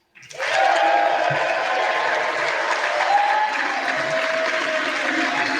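Sustained, dense applause fills the House of Representatives chamber during the 2023 speaker vote, rising sharply at the start and holding steady and loud without pause.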